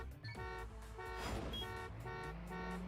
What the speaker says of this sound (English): As everybody honks away,